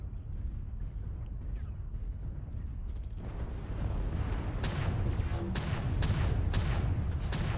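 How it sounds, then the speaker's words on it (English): Ultra autocannon fire from an Atlas AS7-D mech in MechWarrior, a loud sustained roar of rapid bursts and booming impacts that grows heavier and denser through the second half. "Just keep firing the UACs. Don't ever stop firing."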